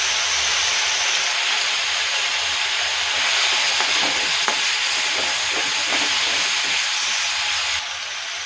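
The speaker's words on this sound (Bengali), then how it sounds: "একটু জিরে ফোড়ন দিচ্ছি, ছোট এক টুকরো আদা আর হাফ টমেটো" Cumin seeds, a small piece of ginger and half a tomato sizzle loudly in hot oil in a Bengali kitchen, a steady close hiss with faint crackles and stirring scrapes that drops off at the end.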